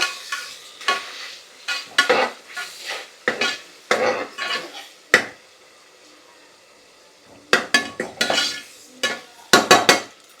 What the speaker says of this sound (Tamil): இந்த முட்டையை நல்லா இந்த மசால் பொடி வர அளவுக்கு நல்லா ஃப்ரை பண்ணிக்கிடுவோம்.